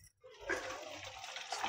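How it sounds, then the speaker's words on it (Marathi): Boiled Maggi noodles are tipped into cold water with a short, close splashing pour that runs continuously after a brief silent start. "लगेच थंड पाण्यात टाकून घ्यायचं आपल्याला मॅगी"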